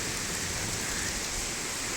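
Steady rain falling outdoors in German countryside near fish ponds, a dense, even hiss with no voices.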